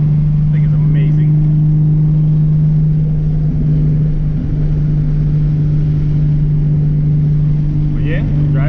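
A Nissan 370Z with a turbo engine drones steadily on a dyno, loud and close, under a constant low hum with a faint flutter breaking through. A voice talks over the engine.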